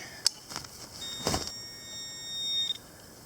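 A few faint electronic beeps and a thin, warbling high tone from a metal detector in all-metal mode over a buried bullet, with soft knocks in the background.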